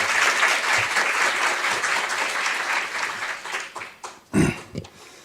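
Audience applause at a diplomatic lecture at the Korea National Diplomatic Academy in Seoul, sustained clapping from a hall full of listeners that thins out toward the end, followed by a few low thumps and a brief rustle.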